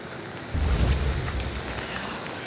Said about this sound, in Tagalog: umuulan na naman pala